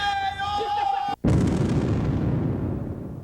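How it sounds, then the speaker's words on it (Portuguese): Artillery bombardment breaks out over a city street scene, a sudden loud boom followed by a sustained roaring rumble of shelling that fills the rest of the moment after a brief tonal passage. "Lá vem bombardeio!"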